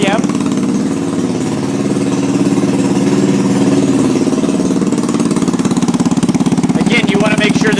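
A GY6 scooter engine idles steadily near the microphone, an even mid-pitched chugging pulse that holds for several seconds, with a faint higher whine toward the end.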